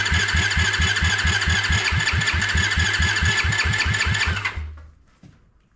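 A Honda ATC 70 three-wheeler with a swapped Piranha 140cc engine running at its first start, a close, loud, rhythmic single-cylinder chug that suddenly cuts out near the end.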